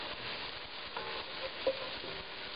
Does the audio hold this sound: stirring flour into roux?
yes